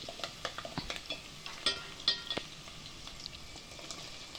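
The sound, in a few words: crushed garlic frying and being stirred in a pan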